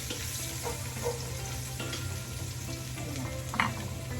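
Onions sautéing in a hot pan with oil, giving a steady, close sizzle and crackle with faint scrapes of stirring throughout and no talk.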